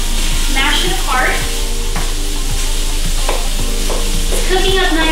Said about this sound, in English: Let's just continue to stir up our sausage until it's nice and brown.